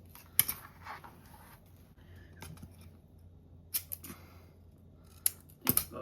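Scissors snip a long strip of craft tape shorter while making an origami-paper card, giving a few crisp, close cuts spread across the quiet, with small paper rustles between them.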